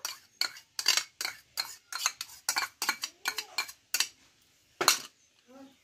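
Chicken marinade being stirred in a metal bowl after whisked sour yogurt, turmeric powder and mustard oil are added, giving a steady run of close, rhythmic scraping and clinking strokes that stop briefly near the end, with no talk.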